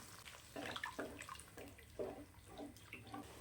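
A tumbler of water is poured into a pot of potato gravy, giving soft, quiet splashing in uneven bursts that fade in and out.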